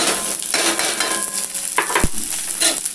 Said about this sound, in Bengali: এতে আছে জিরে আর শুকনো লঙ্কা। এটা ভেজে নিয়ে এই পেঁয়াজটা আর এটা দিয়ে দেবো